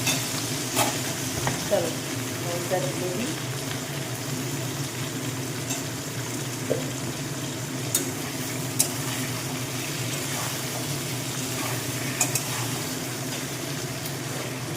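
Chopped vegetables fry and get stirred in a pan in a home kitchen. A steady, close sizzle runs throughout, broken by occasional utensil scrapes and clinks, and a voice speaks briefly over it.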